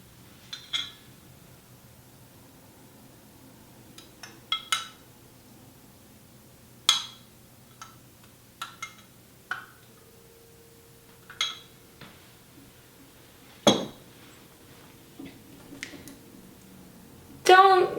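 Spoon stirring yeast into water in a bowl for bread, faint scattered clinks and taps of utensil against the container, spaced apart in a quiet room.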